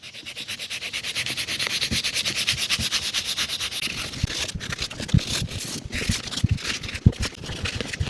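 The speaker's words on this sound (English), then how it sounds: "First thing I'm going to use is some 400 grit sandpaper and then some 1200 grit sandpaper." 400 grit sandpaper rubs back and forth over heavily creased leather shoes, a steady rhythmic rasping scrape repeated fast and close, with a few louder knocks toward the end.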